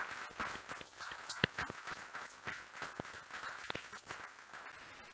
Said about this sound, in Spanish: le damos un aplauso a Ruth